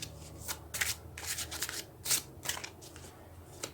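A brand-new tarot-style card deck is shuffled in a series of quick, crisp riffles and snaps, close and fairly quiet, with no talking.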